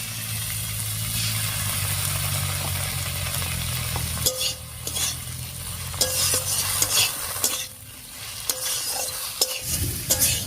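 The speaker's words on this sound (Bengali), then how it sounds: "এবারে বাটা মশলাটা দিয়ে দিচ্ছি।" Ground spice paste sizzles and fries with partly cooked vegetables for a Bengali tangra fish curry, with a spoon stirring and scraping the pan in repeated strokes, close and steady, no talk.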